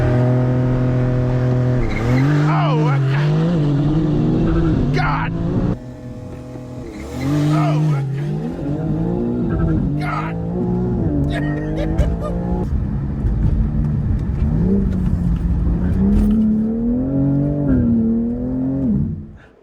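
A Porsche 911 and a BMW M340i race from a green light, loud engines revving and accelerating hard with rising gear pulls and a brief tire squeal, sustained and close throughout.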